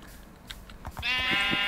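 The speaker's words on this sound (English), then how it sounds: "And another sheep." A Minecraft sheep lets out one clear, nasal bleat after a few soft clicks and thumps, close and fairly loud, with no talking.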